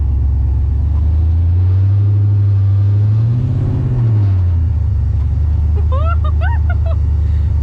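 A Mustang with an LSA engine idles and rumbles up close, its low engine note rising and falling once as it pulls away, followed by a brief high squeak.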